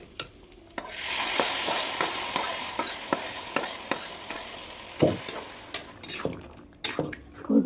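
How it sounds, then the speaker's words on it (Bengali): Potatoes sautéing in a pan with spice paste, a soft sizzle under repeated scraping and clinking stirring strokes, close and irregular. "ভালো করে কষিয়ে আলুগুলো দিয়ে দেবো"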